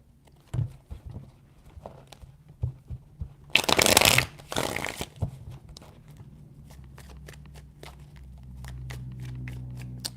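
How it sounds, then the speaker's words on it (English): Tarot cards are shuffled close by, with soft taps and flicks and then a dense burst of riffling for about a second and a half, followed by lighter handling sounds. "Three shuffles."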